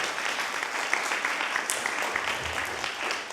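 A church congregation claps steadily at a Christmas worship service, dense and sustained applause filling the room throughout, with faint voices mixed underneath.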